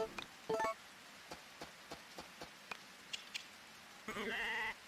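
Sheep bleat in Harvest Moon: Sunshine Islands, with a couple of short, quiet calls over a soft background of light ticks and taps, then a longer bleat near the end.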